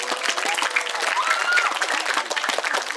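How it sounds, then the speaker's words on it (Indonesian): An indoor audience at an Indonesian education event gives a dense, steady round of applause that is loud and close, with a faint murmur of crowd voices beneath the clapping. "silahkan kita tepuk tangan dulu semuanya"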